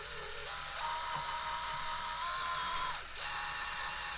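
A drill boring through the metal housing of an electronic safe, a steady high-pitched whine with grinding texture, a brief click and a momentary dip as the bit slows, close up, no speech.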